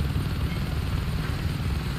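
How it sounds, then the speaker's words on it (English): Attack helicopter in the video game Saints Row 2, a steady loud rotor drone with dense low thumping filling the whole stretch, no speech. "got hit by a fucking attack helicopter."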